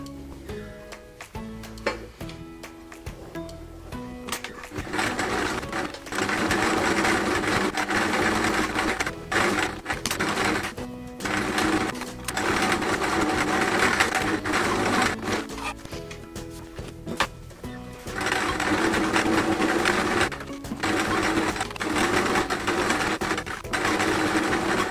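A sewing machine stitches appliqué on a patchwork quilt in long steady bursts, whirring and rattling loudly up close, with brief stops and starts between stitching runs.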